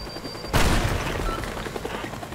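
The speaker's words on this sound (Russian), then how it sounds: "Давайте магниту бомбу поставим одну." A bomb detonates in the destruction game Teardown: a sudden loud blast after a quiet moment, then a long roaring rumble with crackling debris that fades slowly, with no voices.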